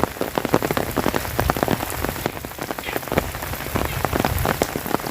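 Heavy rain pours steadily, with dense, sharp drops pattering on surfaces close by, loud and unbroken throughout.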